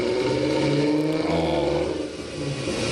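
A car engine on a dyno revs hard, a loud, sustained mid-pitched roar with rising and falling tones and a brief dip near the end.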